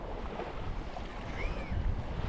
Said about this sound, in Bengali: সমুদ্রের কাছে, ধুবলাগুড়ি সি বিচ